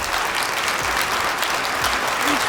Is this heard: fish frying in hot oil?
no